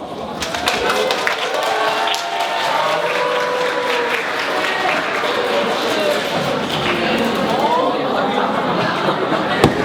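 Applause from a debate-camp audience welcoming a teacher, steady dense clapping over the full span, fairly loud with chatter and voices mixed in.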